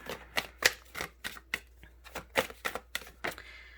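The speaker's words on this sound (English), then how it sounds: "switch from the riffle shuffle to hand-to-hand shuffling" Tarot cards shuffled hand to hand give a brisk run of about a dozen crisp, papery slaps and taps in an uneven rhythm, close and fairly quiet, with no talking.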